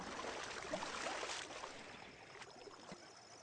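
Buffaloes wallow in a stagnant pool of thick sludge, giving soft wet sloshing and gurgling splashes at close range, moderately quiet and continuous with a few sharper slaps.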